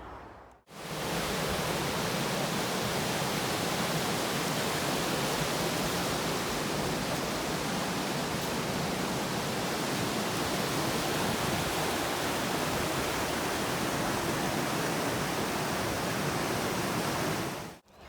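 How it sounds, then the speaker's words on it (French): The Arve, a cross-border river running from France into Geneva, Switzerland, rushes in a steady broadband roar of flowing water, loud and unbroken, with no voices. "L'Arve est une rivière transfrontalière qui s'étend sur environ 116 km"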